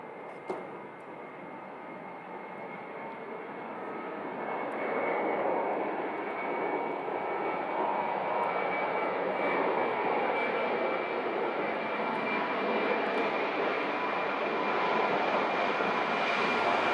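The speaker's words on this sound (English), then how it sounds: "here comes the next Ryanair" Ryanair jet aircraft at Leeds Bradford Airport, a broad roaring engine rumble that swells and holds steadily, heard from a distance through the airport fence.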